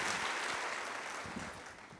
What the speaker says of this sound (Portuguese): Dê um aplauso bem forte para Jesus.